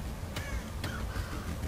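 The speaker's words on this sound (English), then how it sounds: "Oh yeah, the birds, I forgot about them." Crows caw twice in the Thief video game, two brief calls set against a dense, low ambient background.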